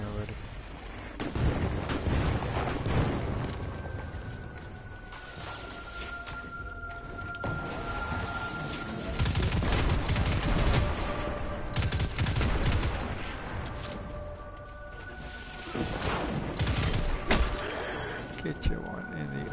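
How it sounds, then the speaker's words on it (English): Gunfire in Destiny 2 crackles in repeated bursts, rapid volleys with heavy low booms and ringing tails, mixed with a continuous game soundscape and a voice talking over it. "Somebody's shooting at me already."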